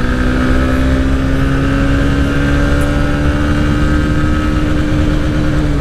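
A 125cc motorcycle runs at full throttle, its engine whine holding steady and loud close by as it pulls hard through the gears.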